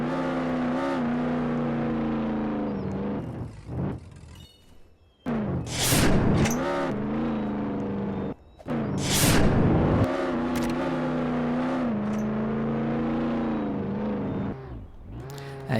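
A Roblox Jailbreak game car drives with a steady engine drone, then rises into two loud rushing nitro boosts before settling back to a continuous hum.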